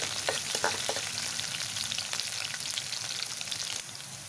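Potatoes fry in a pan with spices for stuffed capsicum, a steady close sizzle with a few sharp crackles and stirring scrapes early on, softening slightly toward the end, with no talk.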